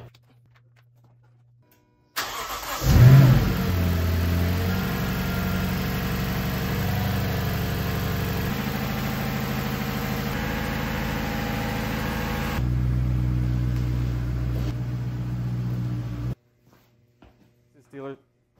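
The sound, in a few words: 2013 Lexus LS 460 AWD engine starting and idling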